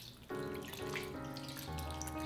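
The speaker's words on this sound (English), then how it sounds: "Now, on goes the juice." Juice poured from a container over cabbage rolls in a cooking pot, a steady liquid stream splashing continuously and fairly close for a couple of seconds, with no talking.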